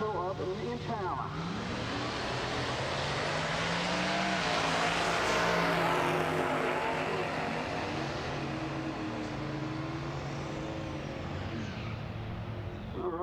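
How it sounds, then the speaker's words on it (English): Drag racing cars, a Hellcat and a turbocharged Impala, at a strip event, roaring continuously and loudly, with engine pitch rising as they run. An announcer talks over the noise throughout. "Rist pulling the turbo up in the Impala."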